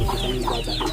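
Chickens clucking in a rural yard beside a hut kitchen, with several soft repeated clucks rising in short bursts over a steady close background hum.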